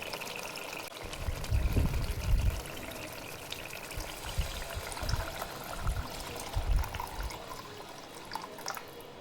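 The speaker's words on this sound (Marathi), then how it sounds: "गरम पाणी टाकायचे." Hot water poured onto roasted spices for a Marathwada-style umbar curry, heard as a bubbling splash and sizzle close by, rising and falling in bursts, with no talk.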